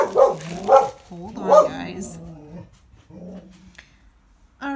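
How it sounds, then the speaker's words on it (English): A dog barks and growls in a few loud bursts near the start, then quieter whimpering sounds follow, with a person speaking briefly over it in a home setting. "I start doing a video and my dog starts barking."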